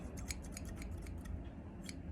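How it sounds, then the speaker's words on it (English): Antique Claws barber scissors, made in USA, with black paint on the handles, snip open and shut in quick, faint metallic clicks, a dozen or so crisp blade strokes close up with no talking. "I think these are more like barber scissors."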